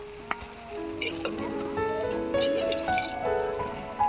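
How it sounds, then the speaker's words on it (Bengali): Brinjal slices fry in oil in a pan with a close, steady sizzle and bubbling crackle, punctuated by a few sharper pops and light utensil clinks. "বাকি বেগুনগুলো আমি ভেজে নেব"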